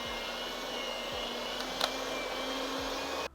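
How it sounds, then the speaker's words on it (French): A simple electric hand mixer whirs steadily while beating cake or pastry dough, a continuous close motor drone with slight changes in pitch and no talking. "si vous faites comme moi avec un batteur électrique simple"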